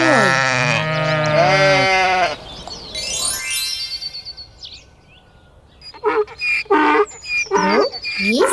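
Sheep bleat loudly and close, a long wavering cry followed after a pause by several shorter quavering bleats.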